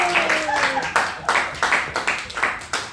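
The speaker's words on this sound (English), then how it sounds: "Let's give them a big round of applause." Scattered hand clapping from a small group at a club meeting, a few claps at a time with uneven rhythm, moderately close.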